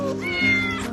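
A cat meows in one drawn-out, tonal call, close and fairly loud, inside a quiet shelter setting with no talking.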